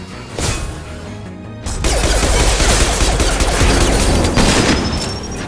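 Gunfire and impacts in the video game Mass Effect 2 Legendary Edition, a dense, loud burst of rapid shots and crashes that starts after a brief quieter stretch and continues steadily to the end, with no talking.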